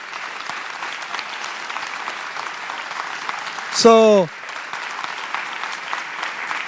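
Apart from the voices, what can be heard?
audience applause for the mayor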